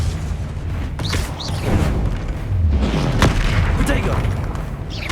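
The Repulso spell is cast in Hogwarts Legacy, a magical combat video game: deep booming blasts and thuds with whooshing sweeps and mechanical clatter, loud and continuous, with voices in the mix.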